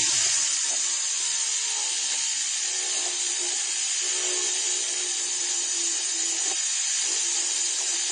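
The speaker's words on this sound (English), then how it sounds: "I'm going to resort to the round burr again." A round bur on a high-speed rotary power tool cuts steadily while beads are made, a close, continuous high-pitched whine with faint grinding texture that barely varies in level.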